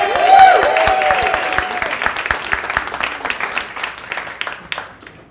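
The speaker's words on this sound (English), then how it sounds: "Let's give a round of applause for Mark." A comedy club audience claps for a man during a stand-up set. Loud applause with some cheering rises at first, then thins into scattered claps as it tapers off.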